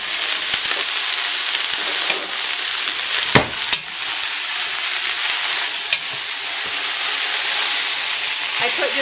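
Chopped leeks sizzling in olive oil in a pan, giving a steady, bright frying hiss throughout, with a couple of brief clatters near the middle.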